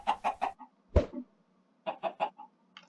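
Minecraft chicken clucking in a quick triple burst, a louder single squawk, then another run of three clucks, close and clear with no talking over it.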